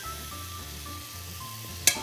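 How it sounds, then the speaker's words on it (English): Sliced radishes and cucumbers sauteing in a hot pan give a soft, steady sizzle with a faint hum underneath, ending in a sharp metallic clink of a utensil against the pan. "these radishes have been sauteing for a little bit, so I think it's time to add our cucumbers in there"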